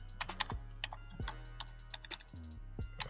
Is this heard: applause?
no